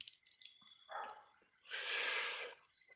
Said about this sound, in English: there's the dog defending her food against Mr. Stinky out there.